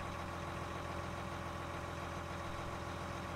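A versatile all-wheel-steer tractor in Farming Simulator 19 idles with a steady, even engine drone, constant and fairly faint throughout, with no talk over it.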